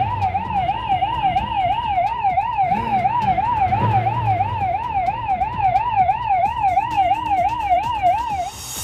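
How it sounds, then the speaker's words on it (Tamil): A wailing siren, sounded by forest staff and villagers to drive a lone wild elephant back into the forest, rises and falls in a steady, loud, continuous cycle with faint background rumble and no talk. "சைரன் ஒலி எழுப்பி வனப்பகுதிக்குள் விரட்டியடித்தனர்."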